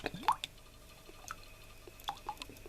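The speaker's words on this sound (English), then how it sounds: "Worcestershire sauce, of course, that has to go in." Worcestershire sauce added to devilled kidneys in a kitchen: a few soft, close drips and small wet splats, quiet and scattered, with no talking.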